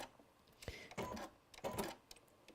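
Sewing machine stitching fabric in a home sewing setting: short whirring bursts of rapid needle action, separated by brief pauses, fairly faint and close.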